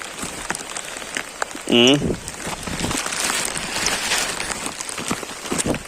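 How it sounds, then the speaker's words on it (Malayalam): Heavy rain pours down outdoors at a fishing spot, a dense steady hiss throughout, with a brief loud electronic warble near the start and a voice speaking over the downpour. "നല്ല മഴയാണ് നല്ല മഴയാണ്"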